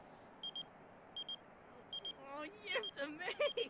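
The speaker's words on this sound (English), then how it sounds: "I have a text message" Text message alert in The Sims 4 chimes as three quick pairs of bright electronic beeps, fairly faint, followed by a person starting to talk.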